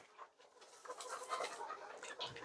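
Egyptian Fayoumi hens cluck softly and steadily inside a shed as its litter is cleaned, a faint, busy murmur of hens with no one talking.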